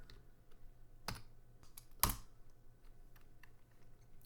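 A few quiet, isolated keystrokes on a computer keyboard, two sharper clicks standing out against a faint background hum.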